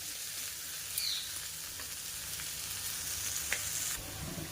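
Potato and beetroot pieces sizzle in a pan over a raised flame, a steady close frying hiss with a few sharp spatters and light stirring sounds throughout.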